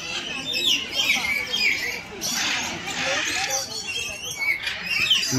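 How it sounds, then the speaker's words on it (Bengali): Lory parrots at a small mini zoo give shrill squawks and chirps in short bursts, fairly close, while a person talks over them in the background. "লরি পাখি"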